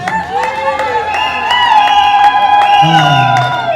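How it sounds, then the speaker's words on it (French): Guests at a civil wedding clap in scattered bursts amid high ringing cheers and ululation, with voices talking over the loud, close crowd. "Applaudissez encore pour son maquillage."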